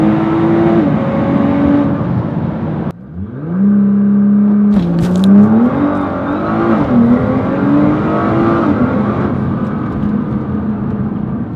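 A Nissan GT-R accelerates hard from inside the cabin, its engine note climbing steadily, dropping briefly at a gear change, then rising again in a loud sustained pull.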